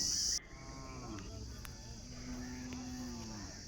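Cattle at a temple chariot festival cattle market in Anthiyur low in a busy outdoor crowd din, with a sustained moo-like tone around the middle, insects faintly present, after a brief high whine at the start.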